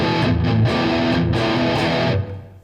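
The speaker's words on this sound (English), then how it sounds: "if I crank it up full, you should really hear how big and fat this sounds" Heavy, thick distorted electric guitar through a Randall Thrasher amp head with the bass turned fully up, a few loud chugging chord hits over about two seconds before a short ringing decay.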